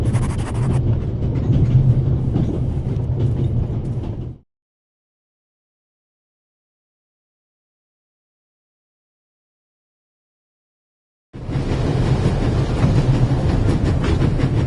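A moving train in the video game Raven Remastered rumbles and clatters steadily at full speed, then cuts to total silence for several seconds before the rumble returns just as loud.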